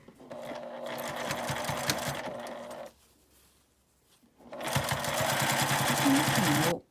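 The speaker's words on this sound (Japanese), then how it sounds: "この両端を端ミシンへかけます。" A sewing machine runs rapid edge stitching along the sides of a fabric lunch bag with a handle. Two bursts of steady mechanical clatter are split by a short pause.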